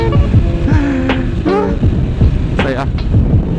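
A Rusi Sigma SS 250 motorcycle cruises in sixth gear at about 60 km/h and 5,000 rpm, with a steady loud engine drone mixed with rushing wind, and a voice calling out over it.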